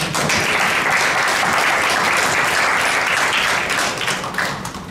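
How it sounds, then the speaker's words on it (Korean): Sustained applause from an audience at a policy forum on a disabilities basic law, in honor of a lawmaker. Dense, steady clapping fills the room for the full length, with no talking over it, then tapers slightly near the end. "여러분 박수 한번 보내주고 출발합시다"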